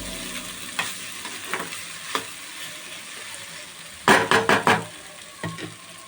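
Sorghum guggillu being stirred and fried in a pan, close spatula scrapes and soft sizzling with scattered single strokes, then a quick loud cluster of four scraping stirs and two lighter ones at the end; no talking.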